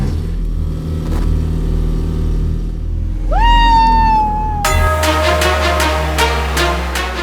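Car engine revving loudly during a demo ride, rising in pitch as it accelerates, followed by a harsher, rougher roar of a strained engine lacking pickup.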